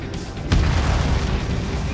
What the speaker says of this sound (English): Dropping the bomb now.